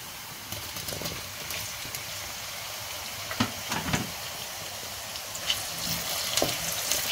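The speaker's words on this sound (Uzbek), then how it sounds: "Endi navbat bilan go'shtimizni tashlaymiz." Meat for a Namangan-style wedding plov frying in hot oil in a pot, a steady close sizzle and hiss with a few crackles and stirring clicks, no voices over it.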